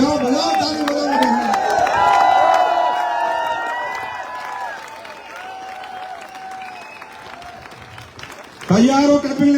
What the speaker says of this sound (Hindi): बजाओ बजाओ ताली बजाओ।